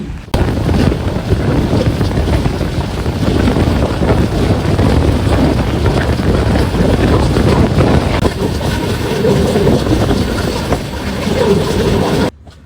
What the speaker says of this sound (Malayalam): ഇപ്പോൾ ട്രെയിൻ തെലങ്കാനയിലെത്തി